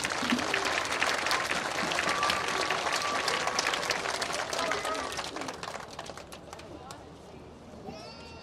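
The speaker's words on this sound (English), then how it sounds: "Let us show our appreciation and applaud our supporters." Audience applause at a high school commencement ceremony, a broad crackle of many hands clapping that holds steady, then thins out and fades over several seconds, with a few scattered claps near the end.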